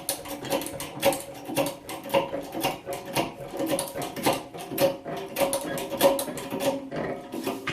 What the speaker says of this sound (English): Once you got them all loose, jack it up all the way.